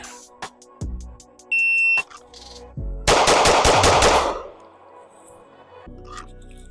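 Six shots from a budget 2011 pistol on an outdoor range, sharp loud cracks spaced out, then a quick rapid burst, with electronic beeps from a shot timer mixed in.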